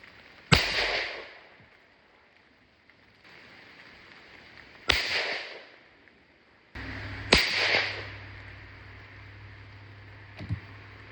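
A 7mm PRC rifle loaded with 70.5 grains of N570 powder fires three sharp, loud cracks several seconds apart, each decaying quickly into outdoor quiet, with a fainter click near the end.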